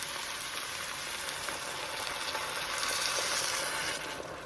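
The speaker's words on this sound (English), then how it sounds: "I'm going to add 3 cups of water." Steady, close hissing sizzle as three cups of water go into a hot pot of beef stew, continuous with no pauses.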